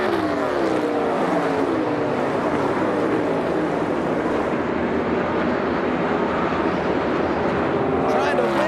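NASCAR stock cars roar around the track during a 2025 regular-season race, a dense, continuous engine drone with shifting pitch beneath a race commentator's voice.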